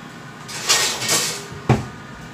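A cooking pan being pulled out and set up in a home kitchen during a meatball cook, with a soft hiss of kitchen noise, two brief scrapes, then a sharp clunk near the end, close by.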